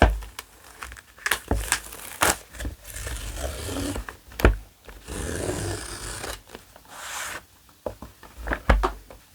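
Packaging for ACEFAST AceFit Pro earphones is being unwrapped, with close crinkling plastic, tearing and rustling in irregular bursts and short sharp rips between quieter handling.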